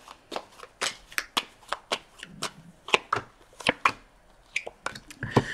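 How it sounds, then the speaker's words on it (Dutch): Tarot cards being shuffled by hand, a run of crisp riffling bursts and soft slaps in an irregular rhythm, close and clear with no talking. "Dus de kaarten schudden om te kijken wat deze week voor jou gaat brengen"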